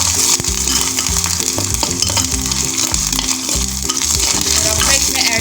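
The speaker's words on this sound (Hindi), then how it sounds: "1 टेबल स्पून का मैंने जिंजर गार्लिक का पेस्ट इसमें ऐड कर दिया है। इसको डाल के हल्का सा फ्राई करेंगे।" Ginger garlic paste frying loudly in hot oil in a pan, a dense continuous sizzle with stirring scrapes, recorded close and steady with no talk.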